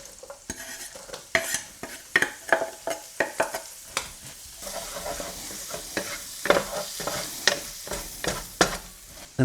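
Vegetables tipped into a hot pan for a three-meat bean burrito filling, sizzling loudly as a utensil scrapes and knocks through them in a brisk irregular series of strokes, close up with no talk.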